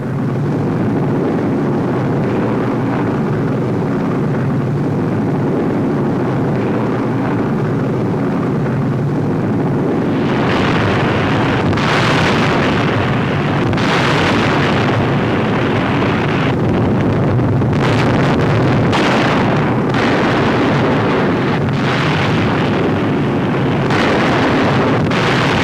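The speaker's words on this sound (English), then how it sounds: "Remarkable pictures of the R.A.F. bombing the Nazis in broad daylight." RAF bombers on a daylight bombing raid over Nazi-held territory in 1943, a broad roar of aircraft engines and wind with a run of heavy thuds and bursts from falling bombs in the second half.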